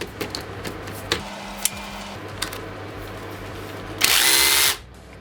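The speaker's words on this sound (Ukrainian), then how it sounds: "Це був режим удара з бурінням, а це є режим просто буріння." A Revolt multi-tool rotary hammer drill runs in hammer mode in short bursts with sharp knocks and a low hum, then one loud, hard, rattling drilling burst near the end.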